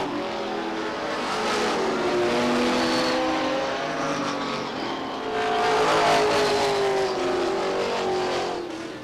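Race cars circle a speedway track on opening day at Beech Ridge Motor Speedway in 1993, engines droning and rising steadily as several pass near and fade, with a louder surge midway.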